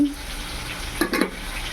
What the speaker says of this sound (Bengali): আর বেগুন ভাজছি।